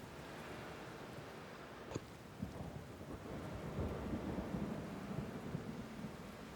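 A thunderstorm with steady rain rumbles throughout, with low thunder cracks near the two-second mark and a rolling swell building toward the end over constant rainfall hiss.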